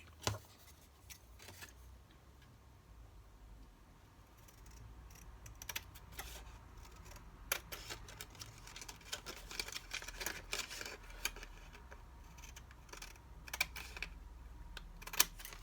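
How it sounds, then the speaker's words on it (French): Paper being cut with scissors for a handmade card, a faint, close series of small snips and rustles scattered irregularly across a quiet room. "Et là je n'ai plus qu'à découper."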